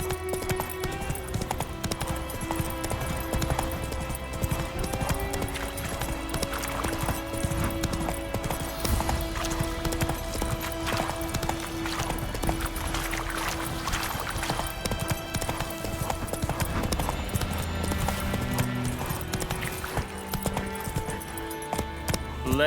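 Roach the horse gallops through The Witcher 3: Wild Hunt, with rhythmic hoofbeats clip-clopping continuously over a steady soundtrack and a brief whinny.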